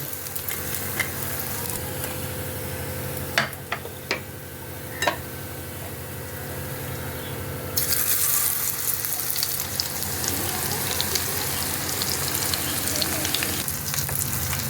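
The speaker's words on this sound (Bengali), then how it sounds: "2 পিঠ একদম ডিপ ফ্রাই করে ভাজা হয়ে গেছে।" Steady deep-fry sizzle of pakoras in bubbling oil, growing louder and brighter partway through, with a few sharp clicks of utensils.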